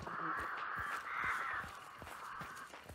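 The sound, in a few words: crows cawing in the video game Hunt: Showdown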